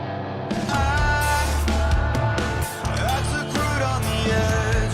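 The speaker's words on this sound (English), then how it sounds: "Kind of like that sound of the guitar here." Distorted electric guitar in a song, playing dense, loud riffs over full band backing with drums and bass, continuous throughout.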